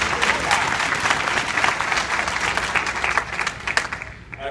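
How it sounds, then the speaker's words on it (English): A crowd gives loud, sustained applause for a veteran and electrician, dense clapping from many people that stays strong before tapering off at the end. "I think that also deserves a little bit of applause."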